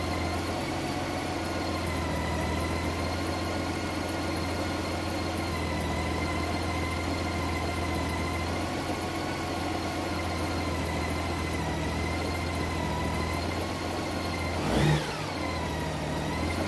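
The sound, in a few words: Honda Goldwing motorcycle engine idling during warmup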